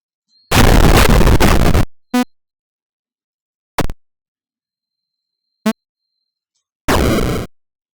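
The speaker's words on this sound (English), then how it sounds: "Okay, so we have an explosion." Explosion sound effects from a Unity tower game play as a series of separate bursts: a long roaring blast, then several short sharp pops with silence between them, and a final shorter rumbling burst, loud and dry.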